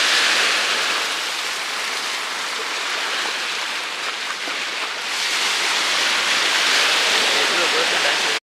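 Rain falling outdoors during a fishing outing, a steady, loud, broadband hiss of drops that swells slightly toward the end, close and continuous with no talk.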